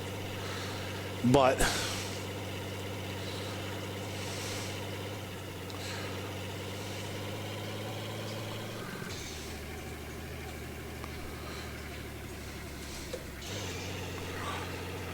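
A truck with a 6.0L gas V8 drives under steady engine drone, the tone dropping and changing as it shifts gears twice, with someone talking over the engine throughout.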